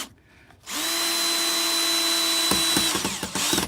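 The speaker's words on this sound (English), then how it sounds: "Now it's just time to screw the screws in, straight into those plugs that were mounted earlier." A power drill drives screws into wall plugs while a garden tap is mounted, with one close, steady whine lasting about two seconds, then a few short stuttering bursts as the screw seats.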